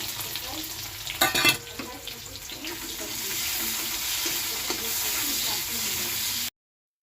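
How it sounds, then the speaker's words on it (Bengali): Long-sliced onions fry in hot oil with a five-spice tempering in a pan. A steady close sizzle runs throughout, with a brief burst of stirring clatter early on. No one speaks. "পেঁয়াজগুলো লাল লাল করে ভাজা হয়েছে"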